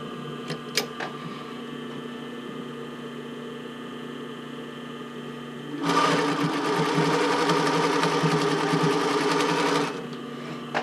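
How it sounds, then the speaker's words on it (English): A sewing machine stitches a bra band for a Porcelynne Eve Classic bra, running in one steady, loud burst of rapid whirring after several seconds of quiet room hum. "I'm going to reline them up and go back in there."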